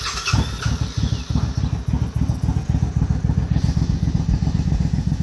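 A Suzuki Boulevard S50 motorcycle engine idles just after a carburetor adjustment, its steady low chugging pulses close and loud throughout, with no talk.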